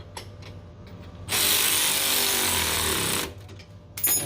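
A power tool, rather than a hand wrench, runs in one loud, continuous burst lasting about two seconds to tighten a tension nut on a Honda Rubicon ATV rear knuckle bushing, close up, with quieter shop clatter before and after.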